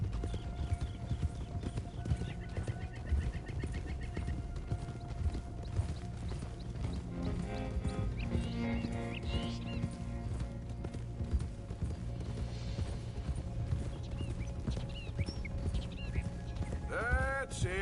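Horse hooves clip-clop steadily through the Red Dead video game soundscape, with a brief whinny near the end, under continuous background music and occasional game voices.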